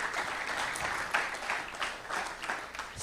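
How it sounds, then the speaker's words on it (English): An audience applauds presenters at a student event, a soft, fairly distant patter of many hands clapping, rising and falling in small swells. "Let's give another round of applause for all of those that presented today"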